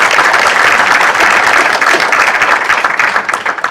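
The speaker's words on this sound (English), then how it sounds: "I would ask you to give a round of applause to Mr." An audience at an Imam Haron seminar applauding, dense continuous clapping from a room full of people, loud and close, thinning slightly toward the end.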